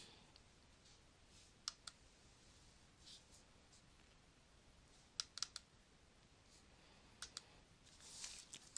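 Keystrokes on a computer keyboard as a search query is typed, sparse clusters of quiet clicks in short bursts over faint room hiss, no talking.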